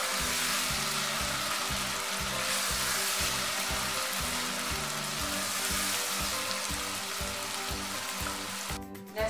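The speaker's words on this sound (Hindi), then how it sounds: "लहसुन भून चुके हैं" Garlic-ginger paste frying with onions for a tinda and mutton curry, a loud steady hiss and crackle of hot oil with a faint repeating low thump throughout, close and continuous, no talk.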